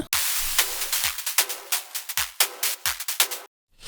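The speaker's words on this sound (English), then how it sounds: "this is basically sidechain in response to the kick drum" Punchy drums with a pumping, ducking rhythm from sidechain compression keyed to the kick: each kick hit briefly pulls the hissy cymbals and snare down before they swell back, ending abruptly.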